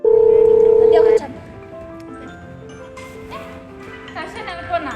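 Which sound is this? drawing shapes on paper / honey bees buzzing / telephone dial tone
telephone dial tone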